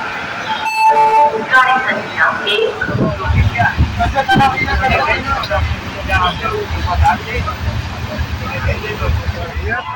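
Inside a moving passenger train, a loud steady rumble of wheels and carriage noise carries on throughout, with a horn-like toot early on and voices talking over the clatter.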